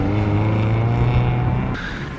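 A Mazda Miata engine runs loud and close with a steady harmonic drone, then shifts tone abruptly near the end as the car drives off, with no talking.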